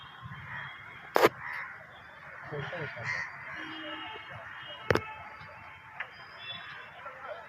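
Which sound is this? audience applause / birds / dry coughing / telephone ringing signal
birds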